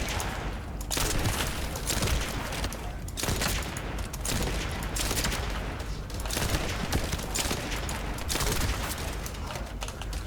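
Rapid gunfire comes from a video game, dense bursts of shots packed close together with brief pauses between volleys, loud and continuous across the whole stretch.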